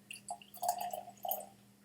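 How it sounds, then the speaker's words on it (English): Tyrconnell 15-year Madeira finish single malt Irish whiskey is poured into a glass in soft, close glugs and drips lasting under two seconds, with no talking. "Now let's pour another dram for"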